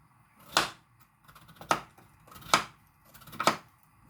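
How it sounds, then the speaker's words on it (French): A knife slicing potatoes into rounds on a cutting board for tartiflette: four crisp, separate chops about a second apart, close and clear against a quiet background. "Alors, on coupe en rondelles."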